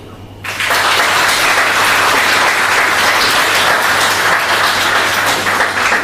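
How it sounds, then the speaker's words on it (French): Loud, dense audience applause at a January political speech in Réunion, starting abruptly after a brief pause and holding at full strength as a continuous roar of clapping to the end. "On peut vous applaudir."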